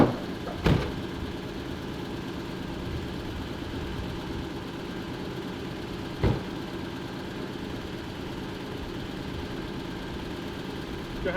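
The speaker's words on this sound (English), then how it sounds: "that car's still running" A car engine runs steadily nearby, a quiet, continuous low hum with two brief thumps breaking through.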